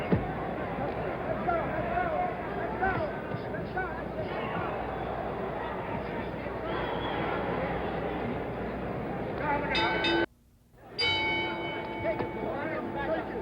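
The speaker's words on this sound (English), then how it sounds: "the bell for round 9" A boxing ring bell signals the start of round 9 of Muhammad Ali vs Ken Norton at the San Diego Sports Arena, ringing briefly over a steady crowd roar and a commentator talking.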